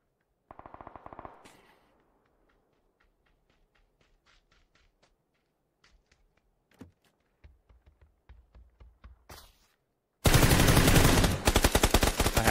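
Gunfire in PUBG (PlayerUnknown's Battlegrounds) comes as a short automatic burst, then scattered single shots and small rapid clusters, ending in a loud, sustained close-range volley of automatic fire.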